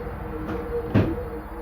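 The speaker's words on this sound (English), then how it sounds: "The last sound the witness heard was the exit door to the stairwell swing open, then close." A stairwell exit door swings open and then shuts, a soft creak followed by a louder close thud against a quiet background.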